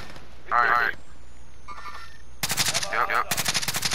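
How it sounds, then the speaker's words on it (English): Bursts of rapid automatic gunfire from Call of Duty: Modern Warfare, a short rattle early on and a longer loud volley near the end, with a voice talking in between. "This motherfucker's shooting and not even hitting shit"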